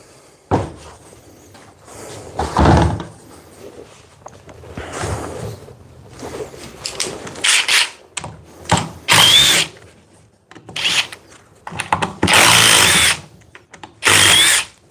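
Cordless reciprocating saws, a DeWalt 60 Volt, a Milwaukee Super Sawzall and a FLEX 24 Volt, run in repeated loud bursts. The harsh buzzing cuts start and stop with short gaps, growing louder toward the end.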